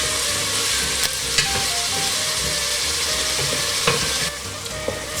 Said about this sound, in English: keep stirring it on a medium heat until your onions are soft, the carrots are soft